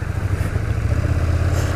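A KTM 1290 Super Duke R motorcycle engine rumbles at a steady, throbbing idle up close, low and continuous with no talking.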